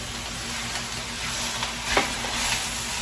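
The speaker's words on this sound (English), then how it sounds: "Now my viewers, I will saute my bok choy." Bok choy sautéing in a pot for Korean noodle soup, a steady broadband sizzle with faint stirring scrapes and one brief louder stir near the middle.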